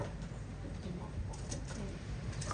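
Racing pigeons in a loft give soft, low cooing murmurs that overlap continuously at a faint, close level, with no voices present.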